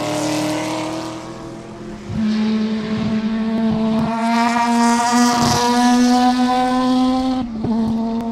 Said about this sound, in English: hopefully you can hear how that car sounds